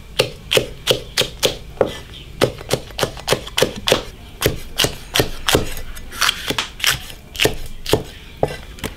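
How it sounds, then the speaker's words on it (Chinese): A knife chops green peppers on a wooden board in a steady run of sharp, close knocks, some two dozen crisp strikes at an uneven quick rhythm with no talk over them. "青椒切的"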